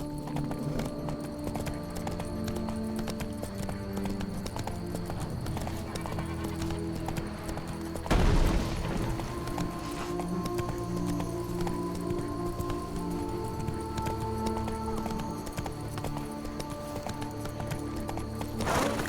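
A horse gallops in The Witcher 3: Blood and Wine, steady clip-clop hoofbeats running throughout over ambient game sound, with a sharp louder burst midway.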